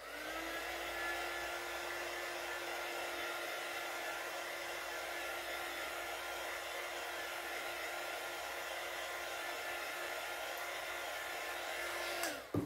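A hair dryer blows steadily to dry ink on paper, a constant whirring drone with a fixed tone that runs for the whole stretch, then a brief clatter as it switches off.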